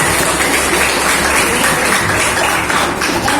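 Classroom applause for a student named Aldo, a dense, loud wash of many hands clapping steadily throughout with no pauses.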